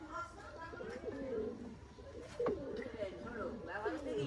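Pigeons of an old Khulna breed coo in low, throaty rolls, several overlapping calls repeating through the moment, with quieter outdoor background under them.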